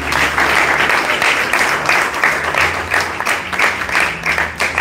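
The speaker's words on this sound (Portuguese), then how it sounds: "Dê uma salva de palmas a Jesus" A church congregation claps together in loud, continuous applause, a close and fairly even patter of many hands that ripples in intensity throughout.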